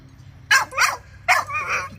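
A pedigree dog at a kennel gives two pairs of sharp, close barks with a whiny, yipping edge, loud against quiet surroundings.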